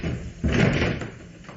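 A door sound effect in a French radio mystery drama: one muffled, heavy thump or knock, moderately close, followed by quiet room tone.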